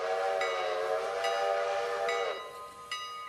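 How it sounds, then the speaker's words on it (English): Locomotive horn in the Railroader train game sounding a long, steady multi-tone honk of about two seconds, then a second shorter blast after a brief gap, loud and close. "couple honks of the horn"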